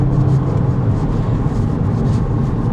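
Volkswagen Golf GTI Mk8 engine running loud and near, a dense, steady low growl with slight fluctuations and no voices over it.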